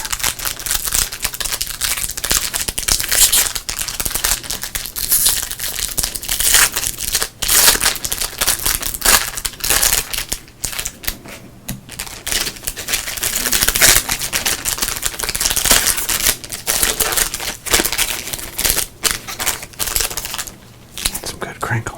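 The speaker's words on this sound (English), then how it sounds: "Let's go ahead and open up this pack right here." A 2023 Topps sports card pack's foil wrapper is crinkled and torn open up close, with irregular sharp crackling bursts and brief pauses throughout.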